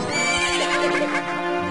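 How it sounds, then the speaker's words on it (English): A horse in The Legend of Zelda: Majora's Mask video game lets out a loud, drawn-out neigh, close and clear, with a few soft hoof thuds underneath. "Link is one brave SOB because he's getting dragged by this horse here"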